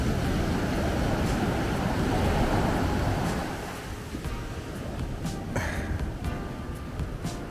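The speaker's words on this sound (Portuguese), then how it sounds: "tá forte as ondas" Strong ocean surf at a beach in Prado, Bahia on a rainy day, a continuous roaring wash of breaking waves that eases slightly midway, with scattered gusty noise and no speech.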